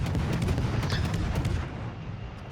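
Naval guns firing from a light cruiser in World of Warships, deep booming salvos and rumbling blasts layered over one another, loud and dense at first, then easing off toward the end.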